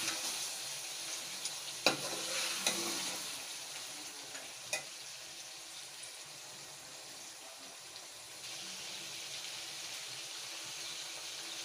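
Boiled meat for desi chicken korma fries in a pot with a steady broadband sizzle, broken by a few sharp scraping clicks of a spoon stirring early on, with no talking.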